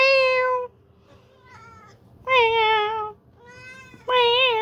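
A cat meows three clear, drawn-out times with rising and falling pitch, close and loud, separated by softer mews and quiet low background hum.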